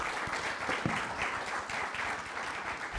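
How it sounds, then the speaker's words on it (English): Summit audience giving a panel a round of applause, a dense, even wash of many hands clapping at moderate distance, holding steady throughout with little talk. "Let's give them a warm round of applause."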